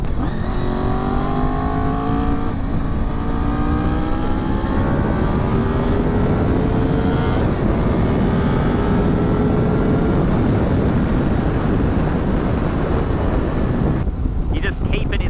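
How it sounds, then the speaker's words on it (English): A Honda VFR 800 motorcycle engine revs under way, its pitch climbing through long sweeps beneath heavy, constant wind rush, then cutting away near the end. "when you want the power, you rev it"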